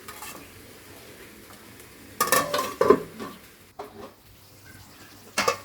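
Dishes and utensils clatter in a home kitchen sink while a chicken dum curry cooks, a few loud bursts of clinking and scraping near the mic over quieter background handling.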